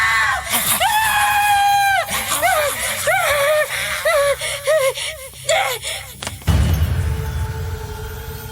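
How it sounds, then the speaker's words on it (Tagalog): A girl screams in terror, a long shriek followed by repeated panicked wails and gasping cries, loud and close, ending in a sudden thump and rustling noise. "Bakit ka sumisigaw, anak?"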